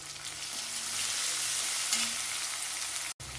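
Onions sautéing in a pan for a beetroot and chana dal stir-fry, a steady close sizzle of frying that carries on evenly with a brief dropout near the end, with no talking.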